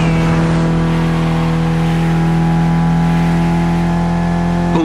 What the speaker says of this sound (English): Mitsubishi gave us a nice inline 4-cylinder with already 280 horsepower. That we're gonna turn up a bit.